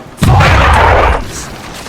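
Cannon fire from a pirate ship in the video game Captain Bones, a single loud booming blast with a rumbling tail about a second long, then fading.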